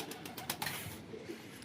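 Pigeons in a loft, with a wild female pigeon among them, give brief low coos over a soft ambient rustle, close and faint.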